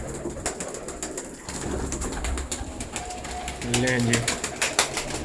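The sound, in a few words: pigeons cooing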